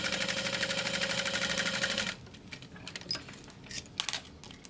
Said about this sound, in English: Then I'm going to baste along this raw edge.